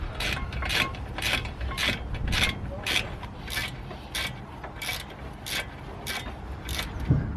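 A hand ratchet clicks in about a dozen quick bursts, close and steady, as bolts are tightened on a BMW brake assembly during an aftermarket brake installation.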